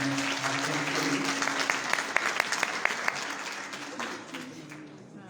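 Audience applause at a film festival award ceremony in Gilgit-Baltistan, Pakistan, a steady crowd clapping over about five seconds with scattered sharper claps, fading slightly toward the end.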